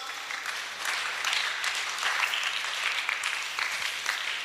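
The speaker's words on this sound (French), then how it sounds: "On acclame." An audience applauds at a Sunday religious gathering, a dense, steady wash of many hands clapping together for a few seconds without a break.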